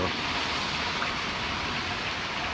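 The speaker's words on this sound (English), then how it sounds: "I don't like the rain." Steady, even rain hisses down without a break on a stormy Appalachian Trail day, a dense wash of sound with no voices.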